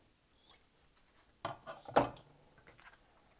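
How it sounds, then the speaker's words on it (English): Scissors snip through ribbon tails at an angle, giving a few short, crisp cuts close by in a quiet room, the sharpest near the middle, with small handling rustles around them. "I'm gonna cut the tails at an angle."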